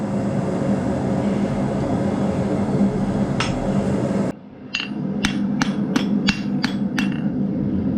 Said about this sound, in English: we're going to go off the anvil. We're going to do half on, half off blows.